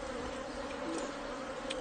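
Honey bees swarming during a honey harvest, a dense continuous buzz filling the air at close range, steady and even with no voices.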